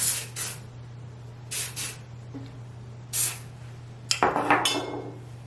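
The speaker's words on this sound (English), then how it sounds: "lift my hair up and just spray it throughout" Short bursts of texturizing hair spray hiss close by, four quick sprays spaced apart, followed by clinks and rattles of handling, over a low steady hum with no talking.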